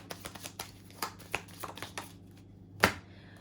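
Tarot cards shuffled by hand in a quiet room, a run of soft riffling flicks and taps followed by one sharper snap near the end.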